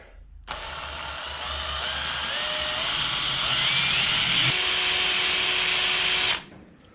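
A small power drill with a 2.5mm bit whines steadily for several seconds, pitch rising slightly midway, then cuts off abruptly; close and loud, drilling out a stuck screw on a Toyota FJ40 door hinge.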